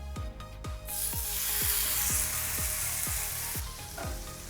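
Boneless chicken thighs fry on a low flame in a steady, close sizzle, with a soft rhythmic tapping repeating underneath throughout.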